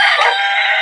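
A Rhode Island hen gives a short, loud, close call, one brief harsh burst from the farm bird with nothing else heard.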